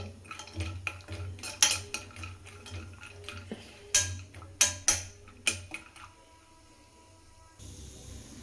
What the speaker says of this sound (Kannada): ಈ ರೀತಿ ತುಪ್ಪದಲ್ಲಿ ಹುರ್ಕೊಂಡ್ರೆ ಸಾಕು